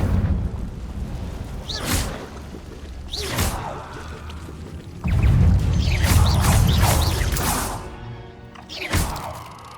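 Confringo blasting spell from Hogwarts Legacy: several separate bursty explosions with whooshing, crackling tails, loud and close, spaced irregularly with short lulls between them.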